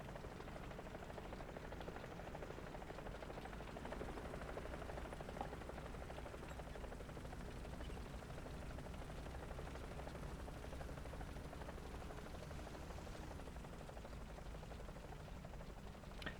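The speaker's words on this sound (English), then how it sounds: "I hear a helicopter, AH-1G friendly" A friendly AH-1G attack helicopter in War Thunder, a steady continuous rotor and engine drone holding at an even, fairly faint level throughout, with faint distant battle noise mixed in.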